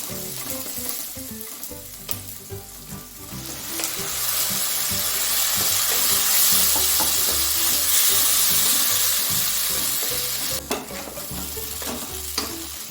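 Garlic paste dropped into hot oil in a pan for restaurant-style lasuni methi sizzles and spits loudly and steadily, close up, swelling into a dense frying hiss with occasional stirring scrapes and no talking.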